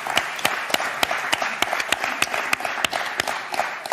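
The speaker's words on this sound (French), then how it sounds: "Et on va vous applaudir très très fort" A TV game show studio audience claps in unison, a rhythmic, evenly spaced beat of sharp hand claps repeating about three times per second at moderate volume.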